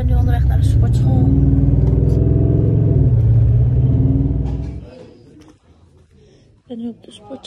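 A car drives along, heard from inside the cabin as a loud, steady low rumble with a voice talking over it. The engine noise fades out about two-thirds of the way through, leaving quieter background sounds.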